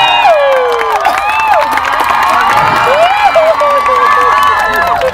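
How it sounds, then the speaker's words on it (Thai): A large outdoor concert crowd at Sanam Luang cheers loudly and continuously, with many overlapping shouts and whoops forming a dense, steady roar. "ก็ขอบคุณที่ปรบมือนะครับ"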